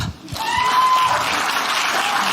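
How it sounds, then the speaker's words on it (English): A stand-up comedy audience bursts into clapping after a brief quiet moment. The dense, loud applause from a packed room holds steady to the end. "who in here has had boys and girls? Can you clap?"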